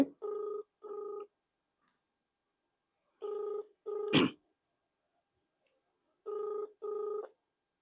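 A telephone rings in three paired bursts of a steady electronic tone, evenly spaced with silent gaps, and a sharp brief knock falls between the second and third pairs.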